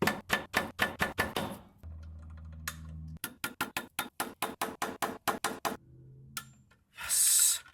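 Close metallic hammer strikes drive a tape-wrapped 6mm socket onto stripping bolts during an E46 clutch install, coming in quick rhythmic bursts of a dozen or so blows, broken by pauses with a low hum and a final hiss.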